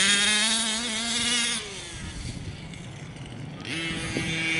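A Losi Five B RC car's OBR 32cc two-stroke engine, running rich, buzzes loudly at higher revs, drops to a rough, burbling idle, then revs up again. It sounds close, and no one speaks.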